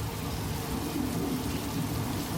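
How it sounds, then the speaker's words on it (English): Artificial rain from sprinklers in treetops and power poles on a Universal Studios backlot pours as a dense, even hiss of heavy downpour, steady and loud throughout, with no voices. "the rain is coming from sprinklers in the tops of the trees, the power poles"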